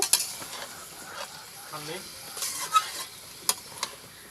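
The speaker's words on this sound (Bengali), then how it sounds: "এখন আমি ভালোভাবে মাংসটা এখানে কষিয়ে নেব" Meat sautés in a pan with a continuous close sizzle, broken by repeated metallic scrapes and clinks of a spoon stirring against the pan, with a brief faint voice-like sound in the middle.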